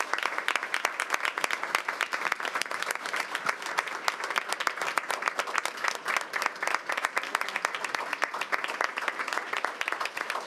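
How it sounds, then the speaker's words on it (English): Sustained, energetic audience applause fills a school board meeting room, dense rapid clapping at an even loud level for about ten seconds with no pauses. "Let's give him another round of applause"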